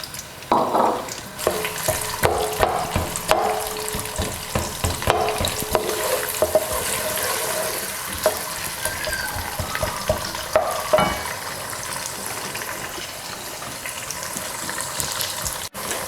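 Sliced onions hit hot oil in a pan and fry with a loud, steady sizzle, punctuated by clattery stirring and scraping up close, the crackle easing slightly toward the end; no talk.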